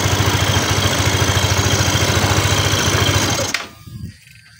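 A motorcycle engine that puffs white smoke when hot runs steadily with a rapid, even chugging idle, loud and close, then cuts off abruptly, leaving faint rumbles and quiet.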